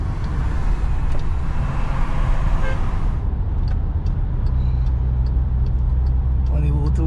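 Volkswagen Amarok V6 pickup with 4Motion all-wheel drive, heard from inside as it drives: a steady low engine and road rumble throughout, with people talking over it.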